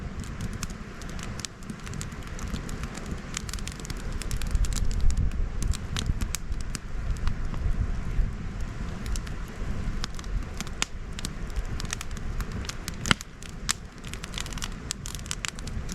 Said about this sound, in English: Just the crackle of the fire.